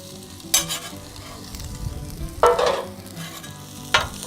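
Philly cheese steak meat sizzling on a Blackstone griddle, a steady close crackle broken by three sharp, loud bursts of hissing spatter spaced a couple of seconds apart.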